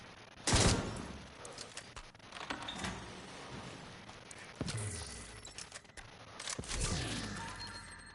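Assault rifle fire in The Division 2 on PS5 comes as a loud opening burst followed by scattered shots and heavier blasts, mixed with game noise and no talk.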